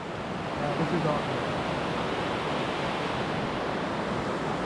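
Rapids at Sawyer Rapids in Algonquin Provincial Park roar as a dense, steady rush of whitewater, loud and continuous throughout with no break.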